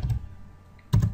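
Keys on a computer keyboard clatter in two quick bursts of typing, close and crisp, separated by a brief quiet pause.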